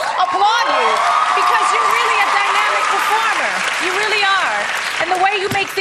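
Studio audience applause and cheering after a Top 5 American Idol performance, loud and sustained, with whoops and a voice speaking over the clapping.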